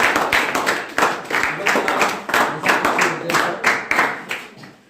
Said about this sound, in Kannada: ೇವತಿ, ಯಶಸ್ವಿ, ವಿಜಯಲಕ್ಷ್ಮಿ, ಚೈತ್ರ, ಶಿವಕುಮಾರ್, ಎಲ್ಲ ಸ್ಪರ್ಧಾರ್ಥಿಗಳಿಗೆ ಒಂದು ಜೋರಾದ ಚಪ್ಪಾಳೆ ಮೂಲಕ